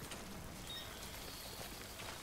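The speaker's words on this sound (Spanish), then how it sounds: "Oh, ha empezado a llover." Rain begins falling in the video game Death Stranding, a faint, steady hiss of drops with no voices over it.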